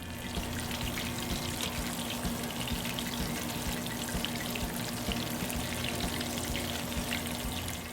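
Chicken deep-frying in vegetable oil at 350°F, a dense, even bubbling hiss that holds steady throughout, close and moderately quiet with no speech.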